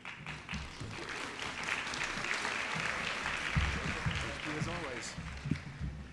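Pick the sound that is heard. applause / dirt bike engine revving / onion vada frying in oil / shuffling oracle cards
applause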